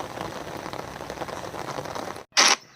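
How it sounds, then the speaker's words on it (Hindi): Sudden rain falls in Guwahati, a dense steady hiss of drops on surfaces that stops abruptly, followed by a brief loud rustling burst. "ओ बहुत जल्दी बारिश आई, पता भी नहीं चला।"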